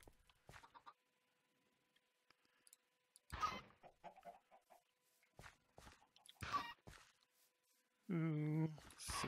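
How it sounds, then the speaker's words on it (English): Chickens clucking in Minecraft (Better Than Wolves mod), heard in short bursts between stretches of talk, with a louder, sustained clucking sound near the end. "I'm gonna go feed these chickens."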